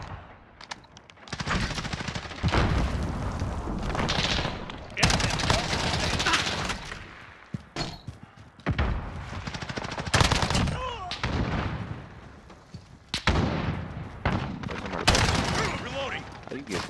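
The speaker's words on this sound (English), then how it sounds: "I'm taking fire!" Gunfire in the Modern Warfare video game, with loud bursts of automatic fire and explosions in repeated clusters separated by short lulls, close and dominant throughout.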